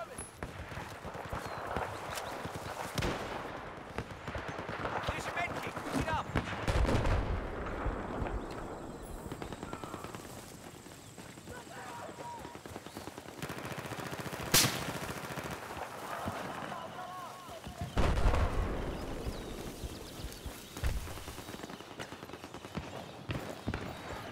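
AUG assault rifle fire in Battlefield 4 team deathmatch on Operation Mortar, with bursts of rapid shots and dense crackling gunfire over busy game noise, someone talking throughout.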